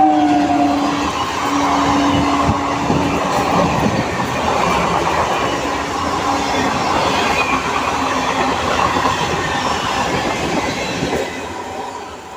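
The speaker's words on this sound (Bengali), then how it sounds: "1 নম্বর প্ল্যাটফর্ম দিয়ে থ্রু ট্রেন বেরোলো।" A through train runs past a railway platform, its steady rumble and rolling wheel noise filling the whole stretch at close range, with a brief squeal of wheels early on.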